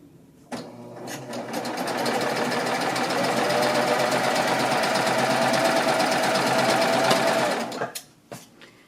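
Serger sewing machine stitching bias strips of fabric, starting abruptly and running at a steady fast buzzing whir for about seven seconds, then stopping, with a few faint clicks and handling sounds afterward.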